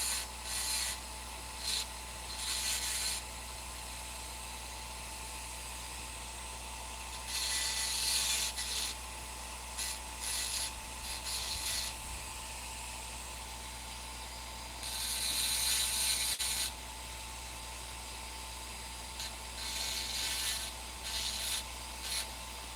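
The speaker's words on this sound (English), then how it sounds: "I'm using a really, really aggressive burr, so it'll just blow through stuff if I'm not careful" An aggressive rotary burr carves rough fire agate, a constant high whine from the tool with repeated bursts of harsh grinding as the burr bites into the stone, recurring every few seconds and close, with no talk.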